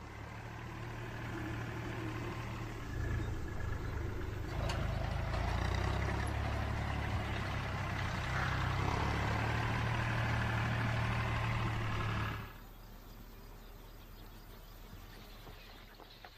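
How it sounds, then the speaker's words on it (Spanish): A tractor engine runs steadily at close range with a low, heavy drone, then cuts off abruptly toward the end, leaving quieter outdoor ambience. "Si el tractor hace este cometido por ellas, ya ni siquiera les molesta el ruido del motor."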